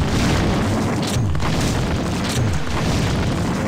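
Frag grenade blasts in the game System Shock 2, loud, dense rumbling booms rolling one into the next with no break, deep and close.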